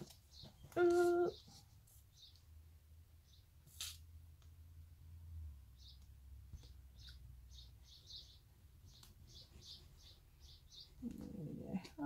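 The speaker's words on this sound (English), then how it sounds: "Oh, birds are chirping." Small birds chirp faintly outdoors after rain, scattered short tweets spread across the stretch with a soft low hum beneath and a few brief louder sounds nearby.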